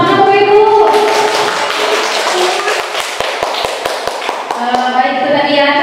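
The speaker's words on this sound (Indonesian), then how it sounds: "Tepuk tangan Bapak Ibu." An audience of adults applauds for several seconds in an indoor teaching session, a dense wash of claps with a few sharper taps, starting after a voice and fading back into speech.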